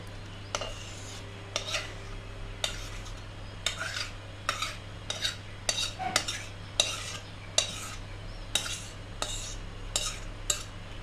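Homemade tomato sauce scraped and stirred in a metal pot with a spoon, giving repeated close scraping strokes at an uneven rhythm over a steady low hum.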